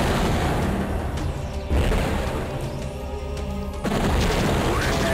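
A guardian blown up in the Shadow Warrior video game, a loud booming blast with crashing debris and continuous game noise, heavy rumble swelling twice.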